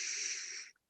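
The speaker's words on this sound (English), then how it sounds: "Breathing in, exhaling out." A single slow breath during a gentle yoga session, a soft airy hiss of exhaling through the nose that fades out after under a second, quiet and close with no talk.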